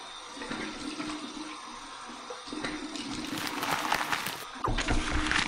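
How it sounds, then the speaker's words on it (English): Cold tap water runs steadily into a bathroom sink for a rinse after shaving, a continuous rushing splash that swells louder partway through, with no talking. "Here's my cold water rinse."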